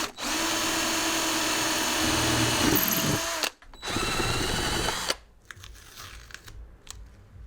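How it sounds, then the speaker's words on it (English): A power drill with foam on the bit drills holes in a Land Rover Defender window, whirring loudly and continuously for a few seconds, pausing briefly, running again, then stopping, leaving faint rustling and handling noises. "I'm using a piece of foam at the end of the drill."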